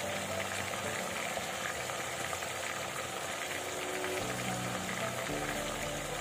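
Fish marinated in ginger-garlic water fries in a pan, a dense steady sizzle and crackle running throughout, close and without voices.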